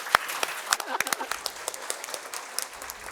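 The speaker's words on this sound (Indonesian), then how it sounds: "Boleh tepuk tangan untuk Ibu Nafsiamboy." Scattered clapping from a summit audience at a women's event, sharp individual claps rising and thinning out irregularly, with talking audible alongside the patter.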